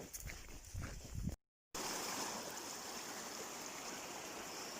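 Stream of water flowing steadily on the Motatapu Track, a broad continuous rush close by, briefly cut to silence before resuming evenly.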